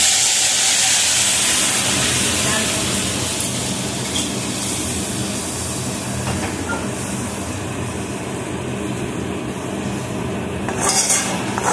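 Spices hit hot oil in a home kitchen while dal with pumpkin greens stalks cooks, giving a steady, loud, dense sizzle that continues throughout with a few sharper crackles.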